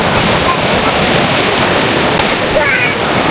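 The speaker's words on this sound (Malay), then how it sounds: "Ya, walaupun ombak dia kuat" Strong ocean waves at a beach on Sabang, Aceh, roar continuously as a loud, steady wash of surf with wind buffeting the microphone.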